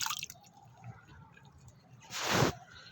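A glass of aloe vera water poured into a 10-inch plant pot, heard as a short soft splash and trickle lasting about half a second, close and quiet, after a faint dripping moment.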